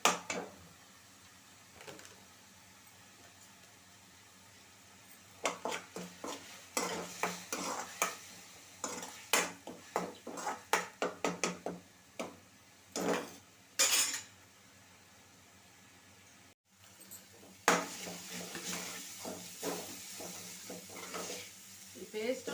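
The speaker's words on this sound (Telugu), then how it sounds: "ఆ పేస్ట్ని మంచిగా వేగేటట్టుగా వేపుకోవాలి" Onion paste mixed with turmeric and salt fries in a pan under repeated scraping and stirring strokes, clattering utensil hits over a faint sizzle, with quieter pauses between bursts of stirring.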